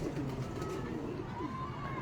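Pigeons coo softly in low repeated pulses amid background noise, with a voice faintly present under the birds.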